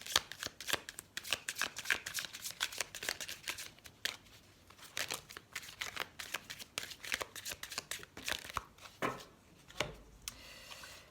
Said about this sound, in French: On va prendre une carte de l'oracle des amoureux.